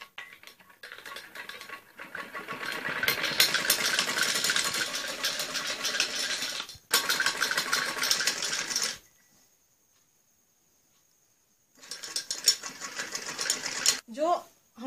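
Sewing machine stitching along the edge of a trouser seam, a steady mechanical whirring run in bursts with short pauses and a silent gap, close and fairly loud.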